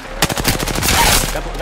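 Rapid automatic gunfire in the video game Apex Legends, a dense burst of close, loud shots in quick succession lasting under two seconds, with no pauses between rounds.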